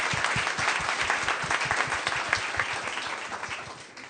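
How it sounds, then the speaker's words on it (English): An audience at a Black small business meetup claps for a panel, a dense, steady round of applause from many hands that carries on for several seconds at an even level and tapers slightly near the end. "I just want to give a hand clap to our panel for being amazing"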